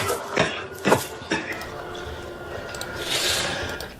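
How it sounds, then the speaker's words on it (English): A person coughs several times in the background, three sharp bursts in the first second and a half, followed by quieter rustling and room noise. "somebody in the background coughing like a motherfucker"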